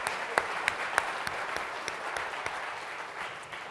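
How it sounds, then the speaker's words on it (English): Keynote audience at a fintech forum applauds, with a steady clapping crowd punctuated by several loud nearby claps, holding fairly even for a few seconds. "How about a round of applause for that hard work over the last 2 years?"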